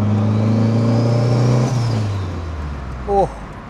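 Modified Opel Kadett with a turbocharged 20XE engine pulling away, its loud, close engine note rising and then easing off as it drives off, followed by a brief voice.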